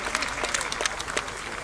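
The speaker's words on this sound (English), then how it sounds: "A round of applause, please, for our fine sponsors bringing us this music tonight." An audience at a live concert claps and applauds for the sponsors, a short burst of dense, steady hand-clapping from a crowd.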